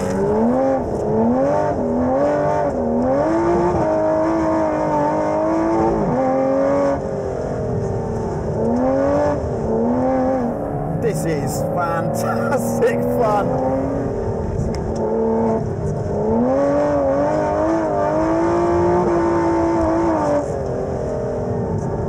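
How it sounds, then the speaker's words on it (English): An Aston Martin Vantage GT12 track car engine roars and revs continuously, its pitch rising and falling through gear changes, loud and close. "very fast track car that makes one of the best noises I've heard"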